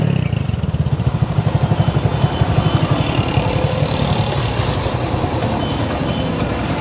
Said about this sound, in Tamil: உங்களுக்கு ஸ்டார்ட் பண்ணிட்டு அந்த பீட் காமிக்கிறேன்